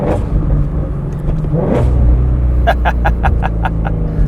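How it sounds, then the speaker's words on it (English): A Ford Shelby GT350R's V8 engine revs sharply through manual downshifts with heel-and-toe blips, loud and close, followed by a rapid burble of crackling pops as the revs drop. "Alright, listen to these downshifts."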